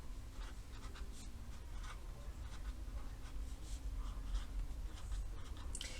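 A pen or pencil scratches out numbers by hand on paper in short repeated strokes, close and soft against a steady background hiss, with no talking.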